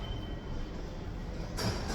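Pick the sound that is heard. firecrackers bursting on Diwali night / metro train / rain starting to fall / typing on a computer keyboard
metro train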